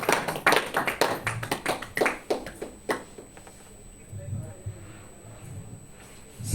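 An audience at a Hindi-language talk bursts into brisk, fairly loud clapping for about three seconds, then the applause thins into scattered claps and a low murmur of room noise.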